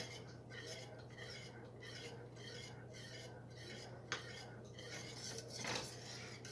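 A utensil scrapes and stirs flour gravy in a pan, a faint rhythmic rubbing with occasional metallic taps against the pan under a steady low hum.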